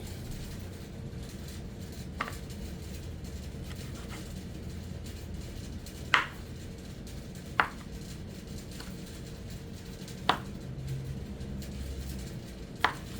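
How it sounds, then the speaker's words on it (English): A few sharp knife taps against a cutting board at irregular intervals as sausages are cut, with quiet kitchen background noise between them. "So now we're going to go ahead and we're going to cut these sausages up."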